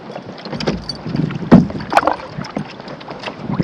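A canoe paddled across Ojibway Lake on an autumn day: soft, irregular splashes and dips of the paddle close by, with light wind rumbling against the microphone.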